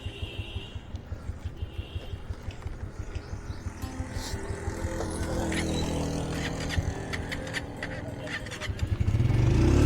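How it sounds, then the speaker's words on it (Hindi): A motorcycle engine on a mountain road between Kaghan and Naran thumps in a steady idle rhythm, then the revs build and grow louder toward the end, with occasional voices and outdoor background. "इधर से बाइक उतारनी पड़ेगी।"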